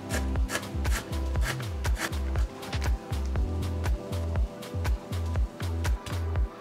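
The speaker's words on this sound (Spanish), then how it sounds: "nosotros vamos a cortar finamente un octavo de cebolla blanca" A knife finely chops white onion on a board in a home kitchen, a steady run of quick, close, crisp chops, about two to three per second, clear and uninterrupted with no talking.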